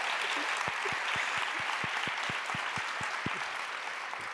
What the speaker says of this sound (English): give CJ a round of applause